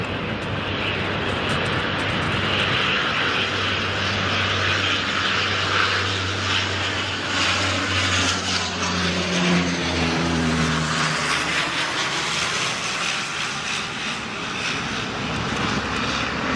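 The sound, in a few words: airplane flying over Sydney Airport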